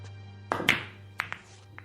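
A pool ball knocked into a pocket as a radio drama sound effect: a couple of close wooden thunks and clicks, then a few lighter taps over a steady low hum, with no talking.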